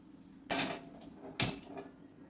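A kadhai pan is set down on a gas stove in a home kitchen, producing two distinct metallic clanks about a second apart, close and clear against a quiet background.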